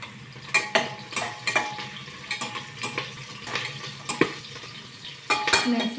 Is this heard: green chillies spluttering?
yes